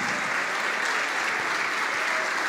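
Dense, steady applause from a large church congregation, continuous and loud throughout with no pauses.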